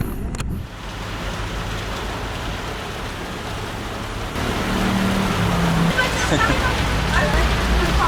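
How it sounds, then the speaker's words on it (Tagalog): Heavy rain pours down on people caught outdoors in La Union, Philippines: a loud, steady hiss that grows heavier partway through, with faint voices underneath. "Ito, inabutan talaga kami ng malakas na ulan."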